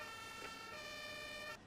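An ambulance siren in the emergency-services game Emergency 4, a steady held electronic wail with strong harmonics, close and continuous before cutting off abruptly near the end.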